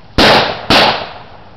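Two sharp, loud gunshot-like bangs in a Spanish-language film scene, about half a second apart, each with a broad burst and a short decaying tail.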